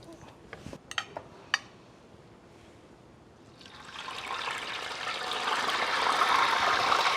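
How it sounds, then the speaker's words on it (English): Pork pieces for adobo sizzling in hot oil, starting with a few sharp clinks and taps, then swelling into a steady, loud frying hiss that grows over the last half. "fry another piece."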